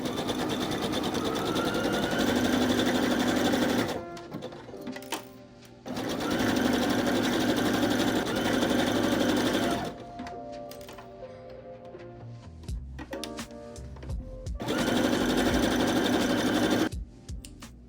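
Sewing machine running a zigzag stitch along the sleeve seams of a long-sleeve knit top, in three steady bursts of rapid mechanical chatter separated by short pauses with quiet handling noises.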